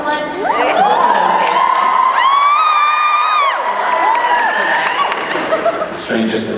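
A convention panel audience reacts with cheering and whoops layered over a clamor of voices, lively crowd noise with shouts rising and falling throughout.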